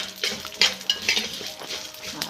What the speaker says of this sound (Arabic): نقلب الشعرية كده ايه لما تحمر